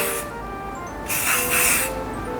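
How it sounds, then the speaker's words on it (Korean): Hairspray hisses from an aerosol can onto hair being fixed for a flight attendant interview hairstyle, in two loud sustained bursts with a short pause between. "스프레이로 고정을 최대한 해주세요."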